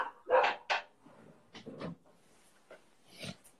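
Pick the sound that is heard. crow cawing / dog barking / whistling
dog barking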